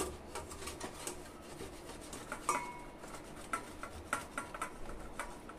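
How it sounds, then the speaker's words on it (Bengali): A peeled boiled potato being grated gives soft, rhythmic rasping strokes, fairly quiet and close, repeating in quick succession. "এভাবে আলুটাকে একটু গ্রেট করে নিতে হবে।"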